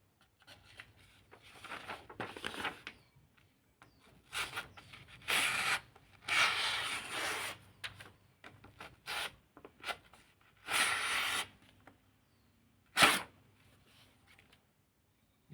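A knife blade being polished and honed to a shine, the edge stroked against an abrasive in repeated bursts of rubbing and scraping, close and fairly quiet, with pauses and one sharp louder stroke near the end.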